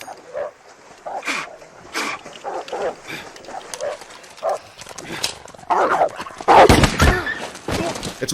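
A dog in a film scene from No Country for Old Men gives a series of short barks and whimpering yips, some close and loud, others fainter, with splashing bursts and a narrator's voice in between.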